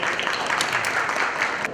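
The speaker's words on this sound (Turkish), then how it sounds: "Beyefendiye bir alkış alabiliriz sabahtan beri." Applause from an audience at a municipal book auction in Diyarbakır: steady, dense clapping of a full room, even and sustained throughout.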